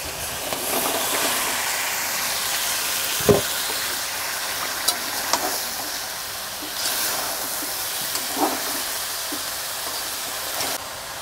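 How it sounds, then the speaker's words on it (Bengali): Boiled jackfruit goes into a hot pan with onion, ginger and garlic paste for a Bengali winter jackfruit curry, giving a steady, moderate frying hiss with a few soft scrapes and clinks scattered throughout. "সেদ্ধ করে রাখা এঁচোড়টা দিয়ে দিচ্ছি।"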